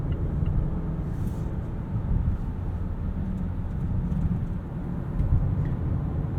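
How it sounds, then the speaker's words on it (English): A 2020 Mazda CX-9 Signature AWD driven hard through corners, heard from inside the cabin as a steady low engine and road rumble with constant tire noise and no talking. "You definitely feel a little bit more front-driven when you're hustling the CX-9 around the corners."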